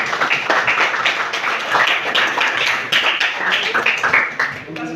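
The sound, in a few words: applause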